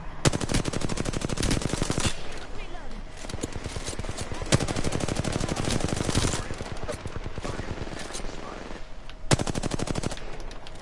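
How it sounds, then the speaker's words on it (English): Rapid automatic gunfire rattles in long, dense bursts in a PS4 shooter game, with brief pauses between volleys and single sharp shots cutting through, loud and close. "Getting shot at."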